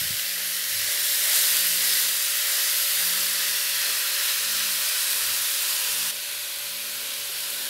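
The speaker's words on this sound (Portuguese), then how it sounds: "Vamos dar uma selada nessa carne" Meat sears in a hot pan with a steady, close hiss and sizzle lasting several seconds, easing slightly near the end, before being seasoned for a baked nest pasta dish.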